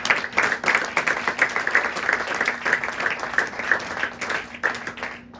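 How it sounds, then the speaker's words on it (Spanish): A Pentecostal church congregation in Siler City, North Carolina, breaks into loud sustained applause during a service, many hands clapping together in a dense, steady wash that lasts throughout. "Dale un fuerte aplauso al Señor."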